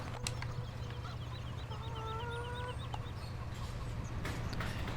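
Farm chickens in the video game Farming Simulator 17 cluck in short repeated calls at moderate distance, over a steady low engine-like hum, with no talking.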